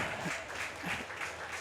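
Team and supporters clapping in the stands at a boys high school soccer game, Mid-Pacific at 'Iolani, a soft, continuous patter of applause heard from a distance at low level.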